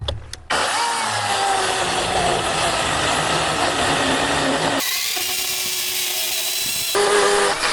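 An Einhell Professional GP-PS 18/20 Li BL cordless mini chainsaw cuts lengthwise along wood. It starts up abruptly and runs as a loud continuous whine, with its pitch and load shifting partway through as the chain bites.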